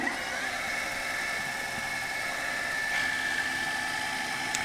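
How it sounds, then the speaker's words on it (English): A long half-inch router bit spins in a milling machine cutting a wood block, producing a steady, moderate mechanical hum with a sustained tonal whine and no break. "It's a 1/2 inch diameter, really long router bit, and running in the mill it runs just great."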